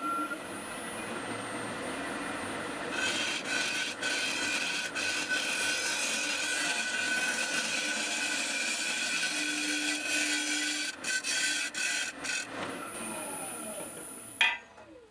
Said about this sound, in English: I'm going to do a really light finishing pass